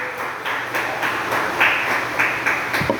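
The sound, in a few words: congregation clapping hands as an offering to God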